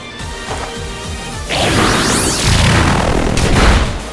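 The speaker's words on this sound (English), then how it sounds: "Someone is doing construction at this hour." Construction work at night carries in from somewhere nearby, a loud continuous clatter of crashing, banging and scraping impacts that grows heavier partway through, with no voices over it.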